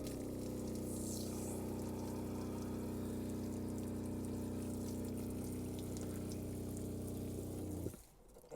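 Antifreeze drains from an RV's cold water line with a steady pump-like hum and continuous water rush, holding constant for several seconds before stopping abruptly.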